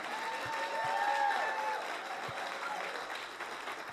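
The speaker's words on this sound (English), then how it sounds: "let's give our visionary and iconic leader a round of applause, if you please" Audience applause for a leader at a church gathering, sustained clapping from a large crowd heard somewhat distant in a reverberant hall, steady throughout with a few low thumps.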